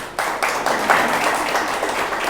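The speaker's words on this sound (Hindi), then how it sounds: "इन प्रोडक्ट्स के लिए एक बार जोरदार ताली बजाएं।" An audience at a network marketing distributor training session breaks into applause, a dense, loud, sustained patter of many hands clapping together that starts abruptly and carries on throughout.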